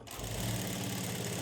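A sewing machine stitches a blouse shoulder seam, its motor giving a steady, continuous mechanical whir that starts abruptly and runs alone at an even level.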